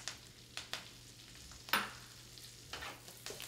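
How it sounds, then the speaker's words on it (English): Arugula and basil sautéing in olive oil for a gluten-free penne dish, a faint steady sizzle broken by a few soft utensil scrapes and stirs, with no talking. "Saute it up a little bit"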